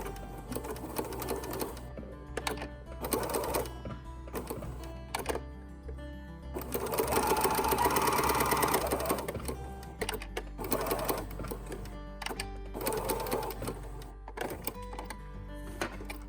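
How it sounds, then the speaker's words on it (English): A sewing machine runs a straight stitch with a backstitch across a tee shirt neckband, its needle chattering in several close bursts that start and stop, with one longer steady run in the middle and a constant low hum beneath. "So I gotta do a straight stitch. Don't forget to back stitch."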